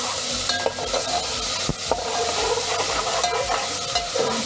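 Food fries loudly in a pan outdoors with garlic-ginger paste, a dense continuous sizzle under rough scraping and stirring strokes, close up with no speech.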